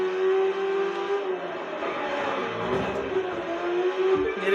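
A Porsche races in The Crew 2, its engine holding a steady, loud, sustained drone with slight shifts in pitch as it speeds along.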